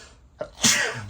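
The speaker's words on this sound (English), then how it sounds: "I had to sneeze." One close, sharp human sneeze, a short inhaled catch followed by a loud explosive burst, heard alone in a quiet room.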